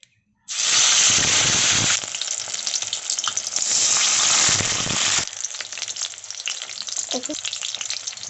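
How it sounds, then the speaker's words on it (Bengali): Fish fritters wrapped in bottle gourd leaves hit hot oil in a karahi with a sudden loud sizzle that holds strong for several seconds, then settles into a softer steady crackle. "বড়াগুলো ভাজার জন্য কড়াইতে তেল গরম বসিয়েছি তেলটাও খুব ভালোভাবে গরম হয়ে গেছে"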